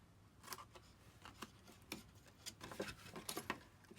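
Scissors snip through paper to cut away a small corner rectangle, a quiet close series of sharp irregular clicks and crisp cuts with short pauses between strokes.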